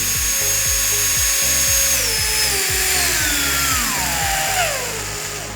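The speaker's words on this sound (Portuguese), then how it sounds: "quando você aperta, vai conseguir ligar e desligar a ferramenta, controlando a velocidade de rotação." A cordless drill-driver runs steadily with its motor whine rising and falling as the rotation speed changes, loud and close, then winds down near the end; no speech.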